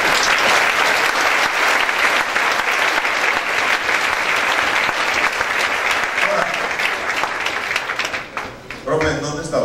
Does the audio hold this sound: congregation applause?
yes